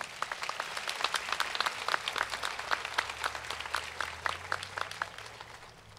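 At the 107th Fullerton College commencement in 2022, the audience applauds honored college officials. Many overlapping claps with sharp individual hand strikes continue steadily, then taper off slightly.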